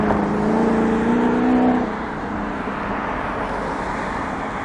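An M44 bus in Adelaide pulling in to stop on the northern roadside, its loud engine drone with a rising whine that drops off after about two seconds into a steady idle and road rumble.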